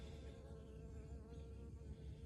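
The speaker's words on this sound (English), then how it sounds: "Got a bee checking me out here." A bee buzzing close by outdoors during crystal collecting, a continuous steady drone with no talk over it.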